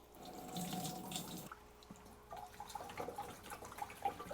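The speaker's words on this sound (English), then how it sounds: "Just gonna pour it right on in with the pitcher." Worm tea solution poured from a pitcher, a faint, close trickle and gurgle of liquid with small drip-like plinks toward the end, quiet and alone.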